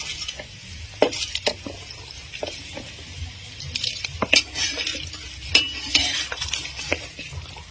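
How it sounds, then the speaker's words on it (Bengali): Marinated basmati rice stirred into hot oil in a pan for pulao, with a steady sizzle broken by scraping spatula strokes and occasional clinks of utensil on metal, close and moderately loud. "এখন দিয়ে দেবো আমাদের বাসন্তী ম্যারিনেট করা চাল, এর মধ্যে দিয়ে দিব ভাজা তেলের মধ্যে।"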